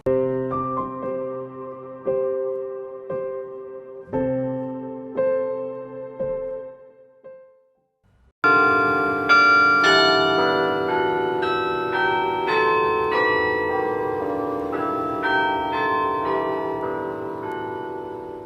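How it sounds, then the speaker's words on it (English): Church bells toll in remembrance at Michigan State University in East Lansing, first several separate ringing strikes that fade between hits, then a fuller, denser peal of overlapping bells that rings on and slowly decays, with no talk. "Bells tolling to remember those killed and injured in the mass shooting 1 year ago."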